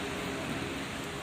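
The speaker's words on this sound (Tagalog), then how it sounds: "Ang lakas ng ulan." Heavy rain falling on a Thursday morning in Saudi Arabia, a steady dense wash of noise with no breaks, loud and close throughout, no voices.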